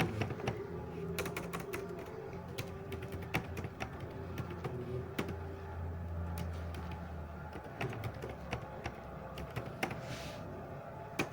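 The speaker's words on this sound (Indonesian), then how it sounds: "Di sini saya akan memasukkan username Ermila dan emailnya" Someone types a username and email into a web admin form on a computer keyboard, a steady run of quick soft key clicks over a low hum, with no talk.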